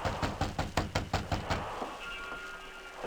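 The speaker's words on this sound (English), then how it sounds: "There was no answer to his knock," Knocking on a steamer's cabin door as a radio drama effect: a rapid series of about eight sharp raps in quick rhythm, close and clear, then stopping into quiet.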